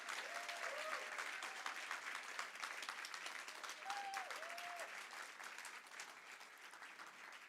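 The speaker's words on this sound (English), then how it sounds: "Keep those claps coming." An audience claps for musicians after a performance with tabla, drums and flute, a steady wash of hands that slowly fades, with faint tonal whistles or voices briefly rising above the clapping.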